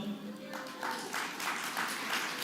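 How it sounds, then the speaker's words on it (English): Audience applause at an opening ceremony for a journalists' association gathering, broad steady clapping from a large crowd filling the room for a couple of seconds, with a voice faintly present underneath. "You can applaud"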